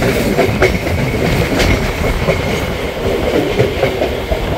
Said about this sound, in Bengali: আমাদের ট্রেন সাঁতরাগাছি জংশনে ঢুকে পড়ল।